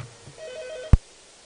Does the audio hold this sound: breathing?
no